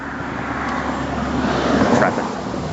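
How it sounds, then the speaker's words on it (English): Road traffic rumbles in a steady broadband wash, with a vehicle swelling slightly louder as it passes midway through, fairly close and continuous. "Traffic."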